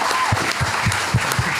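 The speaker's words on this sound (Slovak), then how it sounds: "Najlepší potlesk je vyžiadaný potlesk." An audience at a stand-up comedy show claps, making a short burst of steady, dense applause from a room full of people, with no one speaking over it.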